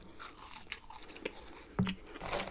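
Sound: crunching warm fries with frit sauce

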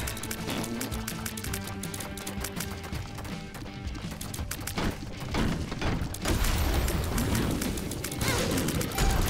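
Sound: exploding tears in The Binding of Isaac video game

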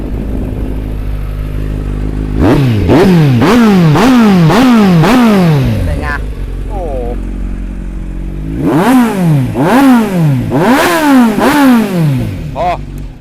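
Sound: motorcycle engine revving

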